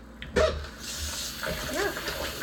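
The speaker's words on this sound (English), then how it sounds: "Rinse my hands here." Hands rinsed under a running kitchen tap while cooking, a short, soft splash of water that starts abruptly and fades into quiet background noise, faint overall.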